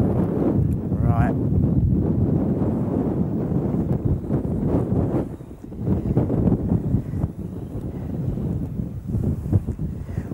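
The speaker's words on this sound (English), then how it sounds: "The old wind's certainly pushing the line about now." Steady wind buffets the microphone on a boat out sea fishing, a constant low rumble and roar that dips briefly midway before rising again.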